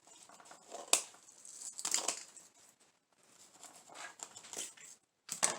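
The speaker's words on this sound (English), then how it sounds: "Take your scissors and just cut the snow." Scissors snip through artificial craft snow in a few short, crisp cuts and crinkly rustles, close and fairly quiet, with pauses between bursts.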